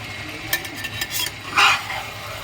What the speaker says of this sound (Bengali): আর কিছুক্ষণ আমি কষিয়ে নেবো